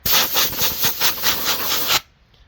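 An air nozzle blasts compressed air over a saw to clear chips away from the carburetor area, one loud, gusty hiss pulsing for about two seconds before cutting off sharply.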